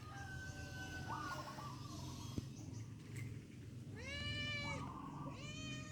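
A cat meows repeatedly outdoors near a garden, drawn-out cries at the start and a cluster of sharper meows near the end over a steady low background hum.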